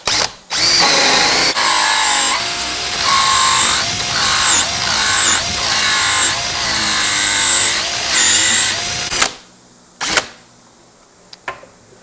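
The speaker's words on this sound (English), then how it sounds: "line your drill bit up with your mark, start it off slowly" A power drill fitted with a hole saw cuts a 2-inch hole, whining loudly and steadily with pulsing bites for several seconds, then stopping, followed by a couple of faint clicks.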